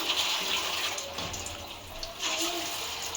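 Kebab pieces fry in hot oil with a steady bubbling hiss, close and moderately loud, as a voice talks quietly over it.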